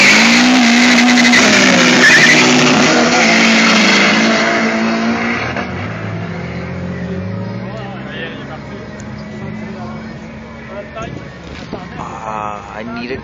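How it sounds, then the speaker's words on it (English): A car engine revs hard at red line at an amateur street racing meet in Luskville, a loud sustained roar with wavering pitch that eases slightly, with crowd voices and tire noise around it. "That's not launch control. No, that's red line."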